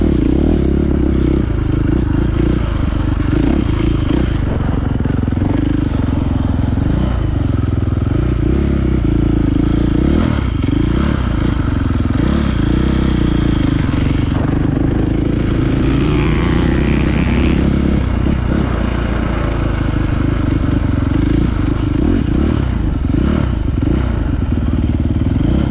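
A 2023 KTM MX motocross bike with a quickshifter revs hard while being ridden, its loud engine droning steadily for the whole stretch, rising and falling with the throttle, alongside clattering knocks and scrapes from the track.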